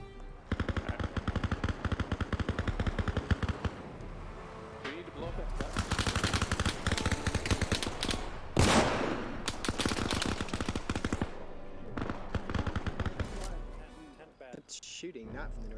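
Sustained automatic machine gun fire in the military simulation game Arma Reforger, dense rapid bursts with gaps, loud and close, with voices calling out over the shooting.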